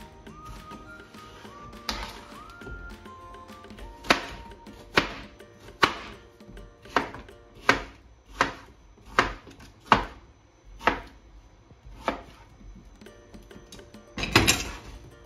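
A knife chops green pepper and cucumber on a board in a series of about a dozen sharp, evenly spaced thuds, close and fairly loud, with a soft scrape near the end.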